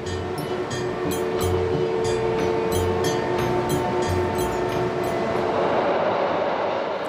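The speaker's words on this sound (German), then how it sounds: "Woche für Woche rollen also beladene Züge auf die Ostseeinsel Rügen." A loaded freight train rolls toward the Baltic island of Rügen, giving a steady, continuous rumble with rhythmic wheel clatter and rail squeal that stays loud and close throughout, with no talking.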